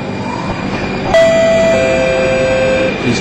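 A two-tone chime rings out over the steady hum of a train interior, signalling the doors closing; no one speaks.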